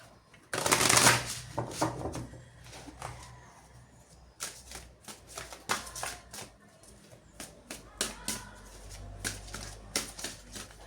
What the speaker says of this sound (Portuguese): Continuar embaralhando aqui para poder tirar.